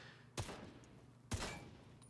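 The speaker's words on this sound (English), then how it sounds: "You're going to shoot this lock first though." Two sharp gunshots fired at a lock in The Division 2 video game, about a second apart, each a loud broadband crack with a short tail, and no talk between them.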